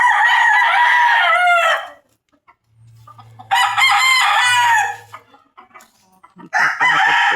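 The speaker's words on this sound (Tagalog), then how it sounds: "Natatakot po ang mga manok." Chickens squawk and cluck loudly up close in agitated bursts, separated by short quiet gaps, frightened hens in a rural yard.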